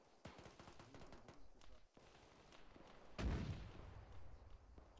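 Artillery gunfire in a war video game, a rapid series of sharp shots followed by one heavy booming blast, with voices talking in the background.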